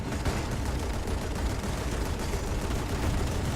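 Naval cruiser guns firing during a War Thunder battle with the Italian cruiser Bartolomeo Colleoni, a dense, continuous rumble of gunfire and distant impacts with no clear gaps, steady and fairly loud throughout.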